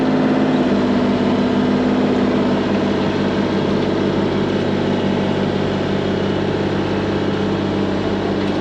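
Mini excavator engine running at a steady idle on a house renovation site, a loud continuous diesel drone with a low hum and no noticeable change in pace, no voices.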